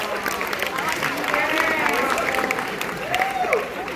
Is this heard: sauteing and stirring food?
no